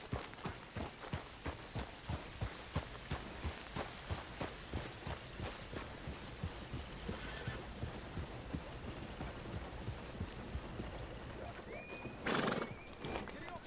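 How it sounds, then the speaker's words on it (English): A horse in Red Dead Redemption 2 clip-clops along in a steady, loud rhythm of hoofbeats, then gives a sharp whinny near the end. "That's what you call a prize winning horse, it is."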